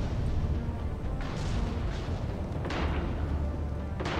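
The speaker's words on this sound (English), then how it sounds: "That's gunfire." Heavy bursts of gunfire and booming blasts roll through a continuous dense, rumbling background in Mass Effect 3, with several loud onsets spaced across the clip.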